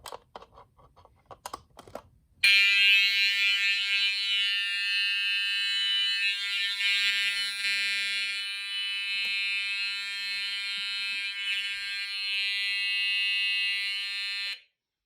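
A loud, steady electronic fire alarm tone blares continuously for over ten seconds after a few soft clicks at the start, then cuts off abruptly, from an EST LSS4/12 fire alarm control panel during a test.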